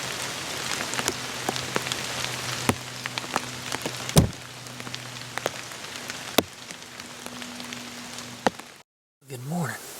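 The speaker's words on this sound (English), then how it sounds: "We got a mist rain coming down." Light misty rain falling in the woods of South Georgia public land, a soft steady patter with scattered sharper drips close by, then a brief silence before a low voice speaks at the end.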